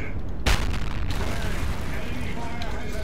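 A single heavy boom from a Borsig tank destroyer firing a HEAT shell in a tank combat game, a sharp blast early on followed by a rumbling battle background with a voice talking over it.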